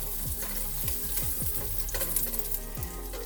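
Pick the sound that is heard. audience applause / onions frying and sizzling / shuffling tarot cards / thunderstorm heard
onions frying and sizzling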